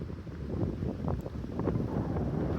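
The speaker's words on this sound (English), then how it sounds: "It's breezy" A warm evening breeze buffets the microphone outdoors in Big Bend, a low rumbling gust of wind noise that is steady and fairly loud for a few seconds.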